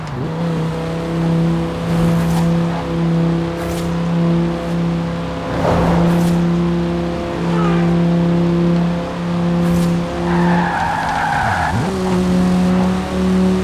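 A Quadra V-Tech car in Forza Horizon 4 drives with a loud, steady engine drone, then breaks into long squealing tire skids near the end as the engine pitch dips and recovers, with no talking.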